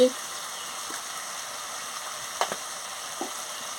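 Elephant foot yam stalks fry with spices in a pan, giving a steady close sizzle with a few soft stirring scrapes, no talk.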